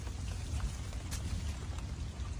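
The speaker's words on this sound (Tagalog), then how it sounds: "Maulan na." Rain falling by a creek in Taiwan where shrimp are being caught, a steady, soft, even wash of drops with no voices.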